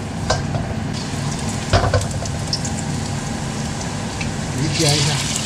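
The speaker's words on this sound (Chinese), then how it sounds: "鱼煎一下" Pieces of pike fish fry with ginger in a hot pan, oil crackling and sizzling steadily up close, broken by a few sharp clinks and scrapes of stirring.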